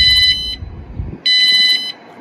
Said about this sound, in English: The alarm beeps twice and this light comes on back on.